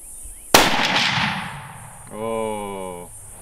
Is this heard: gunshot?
yes